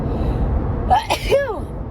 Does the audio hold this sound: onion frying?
no